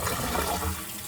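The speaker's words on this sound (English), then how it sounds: "the water's gonna turn on in a second" Water gushes into an RV tank at a sugar beet harvest job site, a loud, full, steady rush of running water heard up close for about a second with no talking.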